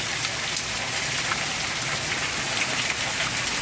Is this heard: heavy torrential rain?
yes